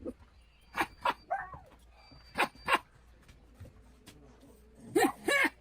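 A man from an inbred family voices a specific bark-like call, several short sharp yelps in pairs, loud and close, with some quieter vocal sounds between.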